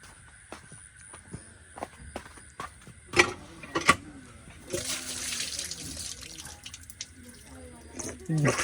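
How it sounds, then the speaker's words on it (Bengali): Running water pours over hands being washed at a tap, a steady splashing wash that swells in the second half, with faint voices and movement around it. "হাত ধুয়ে আসি"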